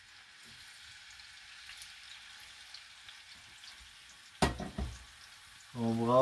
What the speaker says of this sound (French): On met les crevettes dans le gras.